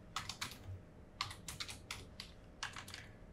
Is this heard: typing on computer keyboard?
yes